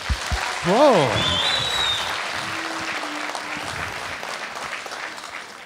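Crowd applause at a comedy show breaks out after a brief exclamation and some voices, then continues steadily and gradually fades toward the end.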